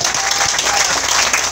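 A church congregation claps during a worship service. The loud, close applause is brief and busy, made of many overlapping hand claps with no talking over it.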